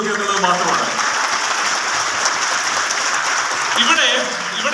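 Applause from an audience at an executive meet in a Kochi hotel, a steady wash of clapping heard at close range that fills the whole stretch, with voices mixed in.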